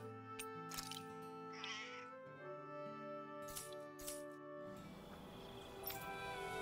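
Several clear meows from a cat in the video game Tales of Arise sound over a game music backdrop, followed by a brief coin-like clink.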